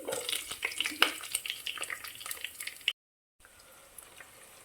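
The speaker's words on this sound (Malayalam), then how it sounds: "ഇഞ്ചി അരിഞ്ഞത് ഇത് രണ്ടും കൂടെ ചൂടായ വെളിച്ചെണ്ണയിലേക്ക് ഇടാം ഇഞ്ചി വെളുത്തുള്ളി തലമുളക് ഫ്രൈ ആയതിനു ശേഷം" Chopped ginger and garlic fry in hot coconut oil, with a bright crackling sizzle and a few stirs close by for about three seconds, then a short gap and a quieter hiss.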